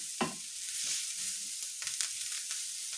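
Onions frying in a pan for Cuban picadillo give a steady close sizzle, with a few soft stirring scrapes near the start and no talk.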